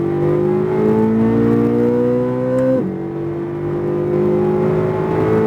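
A Chevrolet Corvette Z06 engine on a race track revs up in a rising whine, drops sharply at a gear change, then climbs again, loud and close from inside the car.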